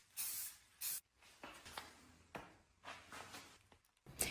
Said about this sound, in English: I start with a clear shellac spray as a primer to help everything adhere and hold up over time.